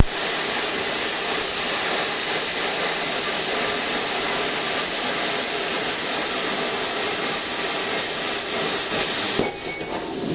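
Plasma cutter from an SSimder SD 4050 Pro slicing 3mm steel along a straight guided line, a continuous loud broadband hiss and roar that holds steady for about ten seconds before cutting off.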